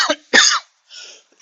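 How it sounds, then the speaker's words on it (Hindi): A man teaching electrostatics coughs twice into the microphone, a sharp short cough followed by a louder harsh one, then a softer breathy throat sound, close and alone. "खांसी मेरे उठी"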